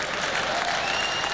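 An audience claps at the Google I/O 2013 developer conference, a brief, even wash of many hands heard from a distance, fairly soft and steady with no talk over it.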